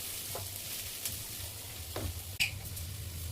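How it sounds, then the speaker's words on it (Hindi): Onion and garlic fry in a pan with a soft, steady sizzle as a spoon stirs now and then. Brief scraping strokes and one sharp clink of the utensil against the pan stand out over a low background hum. "ताकि लहसुन भी अच्छे से भून जाए।"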